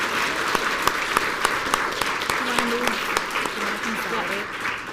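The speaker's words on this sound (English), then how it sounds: "Can we give some big applause to Snack Crackle Pop?" Audience applause for a team at a Battle of the Books competition, a dense continuous wash of clapping with a few sharper claps and voices heard faintly underneath.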